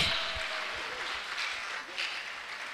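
A round of applause rises at an education technology conference dinner and awards ceremony for an award recipient, moderate and continuous with some low murmur beneath it.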